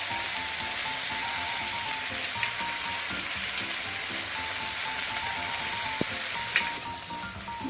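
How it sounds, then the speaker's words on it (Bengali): Spices such as cumin and turmeric powder frying in a pan for khichuri, a steady close sizzle and crackle holding evenly for several seconds with faint stirring clicks. "মশলাটা আমি 4 থেকে 5 মিনিট হালকা আঁচে ভেজে নেব"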